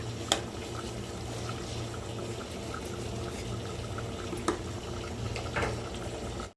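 Steady bubbling and rolling water in a pot for chicken biryani, with a low constant hum underneath and a few sharp clinks, continuous throughout with no talking.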